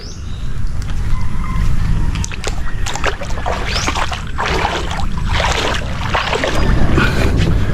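Steady splashing and sloshing of water, with rhythmic paddle strokes from a small boat dipping into the water under a constant rumbling background.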